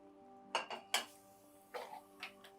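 A kadai set down on a kitchen stove, giving a few sharp metallic knocks and clunks, close and fairly quiet, spaced apart over a couple of seconds.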